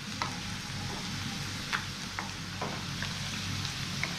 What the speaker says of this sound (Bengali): এইগুলো একটু লাল লাল করে ভাজা হবে